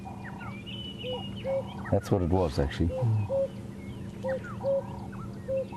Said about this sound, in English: It's the African cuckoo.